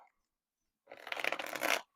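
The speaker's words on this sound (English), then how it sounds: "But I will shuffle the cards, and then we'll get right into the message." A deck of cards is riffle-shuffled once in a short, close, crisp burst of rapid fluttering clicks lasting about a second, after a brief silence.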